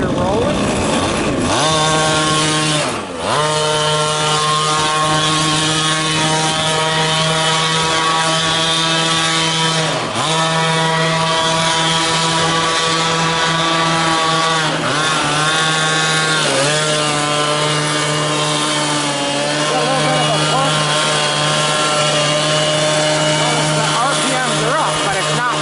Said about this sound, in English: You just got to get the RPM up there to get her rolling.